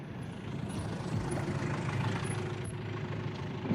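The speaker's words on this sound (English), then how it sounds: "There's a taxi" A taxi engine idles steadily nearby, a low continuous rumble that holds even for the whole stretch, with no voices.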